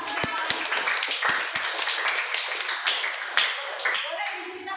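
A school class of tenth-grade students applauds together in a classroom, a burst of mixed claps and taps running steadily throughout at moderate loudness, with voices mingling in the background.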